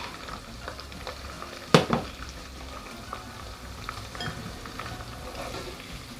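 Meat fries in oil in a pot, giving a steady close sizzle with soft stirring scrapes and one sharp clatter of a utensil against the pot; no voices.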